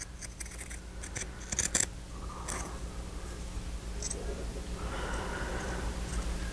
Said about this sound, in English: Let's get our sewing scissors out. I'm going to cut on this side of it